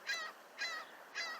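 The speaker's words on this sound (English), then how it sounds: "Never mind the seagulls yapping in the background." Seagulls call three times in the background, each a short honking, nasal cry spaced evenly about half a second apart, moderately distant with no other sound around them.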